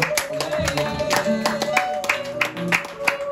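A congregation at a prayer and deliverance church service claps in steady rhythm, many hands striking together close by, with voices mixed in underneath.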